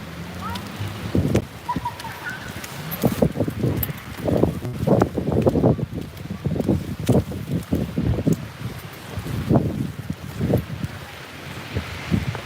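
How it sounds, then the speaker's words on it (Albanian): Strong wind blows outdoors in snowfall in Elbasan, buffeting the microphone with rough rustling gusts while someone talks over it throughout. "Ka prezencë të erës këtu, ndaj edhe streami është pak i vështirë"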